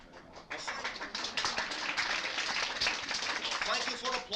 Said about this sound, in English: thank you for applauding yourselves.